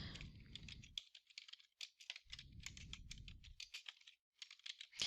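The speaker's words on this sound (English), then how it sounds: "Notice when I start typing" Quick, uneven clicks of typing on a computer keyboard, close and fairly quiet, in irregular bursts with brief pauses and a low rumble under parts of it.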